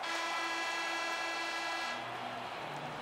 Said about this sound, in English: And with the sound of the horn, that means the conclusion of period number one.